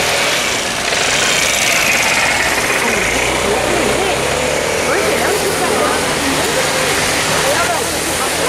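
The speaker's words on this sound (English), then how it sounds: "Look at the fountains." Fountains splash and rush in a steady, loud wash of water at an outdoor resort in Tenerife, a broad continuous roar with background chatter and voices mixed in.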